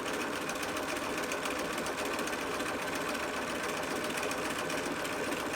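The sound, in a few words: sewing machine stitching a mask seam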